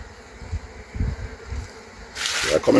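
Disturbed honey bees buzz around an opened Langstroth hive during an inspection of cross-combed honeycomb, with close, uneven buzzing over low thumps that swells into a louder, harsher burst at the end.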